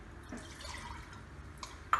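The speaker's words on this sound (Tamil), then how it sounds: "போட்டுட்டு ஒரு 2 செகண்ட்ஸ் ஆனப்புறம் வேணுங்கிற அளவு தண்ணி." Water poured into a pan of mashed potato sagu in a home kitchen, heard as a quiet, faint trickle with scattered drips and a small splash toward the end.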